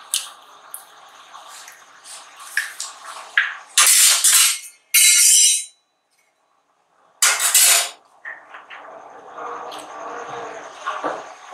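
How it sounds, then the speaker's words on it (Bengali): Eggs are cracked against a bowl and dropped into cooled milk, giving a few sharp taps and wet squelches with brief loud bursts separated by quiet gaps. "এবার দুধের মধ্যে ডিম ফাটিয়ে দিয়ে দিচ্ছি"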